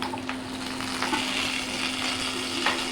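Chopped ginger fries in hot oil in a pan, giving a steady, close sizzle with dense spattering crackle throughout and a few sharper pops, no voices.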